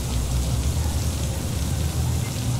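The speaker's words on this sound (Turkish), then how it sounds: "Ha, şimdi buraya da yağıyor." Steady rain falling in the Cyberpunk 2077 game world, a continuous dense hiss of drops spread evenly across the scene with no pauses.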